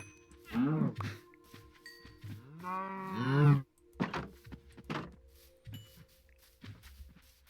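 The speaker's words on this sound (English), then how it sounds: "I need to take care of this cow problem." Cows moo in a Minecraft-style game village, with two long loud lowing calls up close followed by shorter fainter moos and soft bumps.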